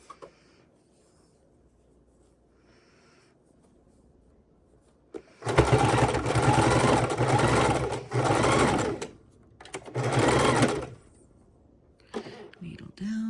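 A sewing machine stitches around the edge of a junk journal cover in two loud, rapid bursts separated by a pause, with quiet handling sounds before and after.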